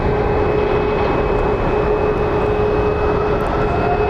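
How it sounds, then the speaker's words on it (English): A Delta Airbus A321 departs Phoenix Sky Harbor International Airport, its engines a loud, steady roar with a constant whine held throughout at close range. "Delta A321 departing."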